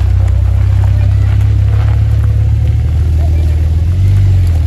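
A red Ferrari 458 Speciale at a Paris Cars and Coffee supercar meet, its engine rumbling loudly and steadily as it moves off nearby, with a deep continuous drone and slight swells throughout.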